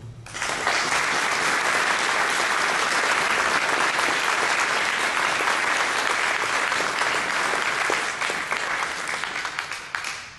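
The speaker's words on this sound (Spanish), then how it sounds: "Bienvenidos y un fuerte aplauso." An indoor audience at a Cicomp 2012 conference talk breaks into dense, steady applause that runs for about ten seconds before tapering off slightly at the end.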